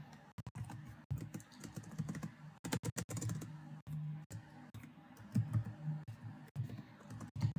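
Steady typing on a computer keyboard while writing HTML: bursts of quick, close key clicks with brief pauses, continuous across the whole stretch with no speech.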